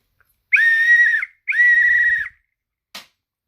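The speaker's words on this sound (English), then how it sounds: "It's a cork ball on the inside of the whistle. But it still works." An old military whistle with a cork ball inside gives two long, loud, warbling blasts close by, each about three-quarters of a second, followed by a brief faint click.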